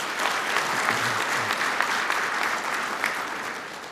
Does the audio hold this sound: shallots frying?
no